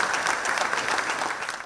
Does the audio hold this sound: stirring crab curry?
no